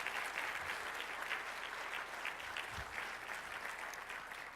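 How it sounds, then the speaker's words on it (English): An audience gives sustained, even applause after a presentation on clinical care redesign. The clapping is dense, continuous and fairly distant. "Huge round of applause for Paul."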